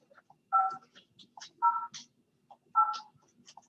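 Telephone keypad tones sound as a client ID is entered into an automated phone system, three short, clean beeps spaced about a second apart, with faint clicks between them and no talking.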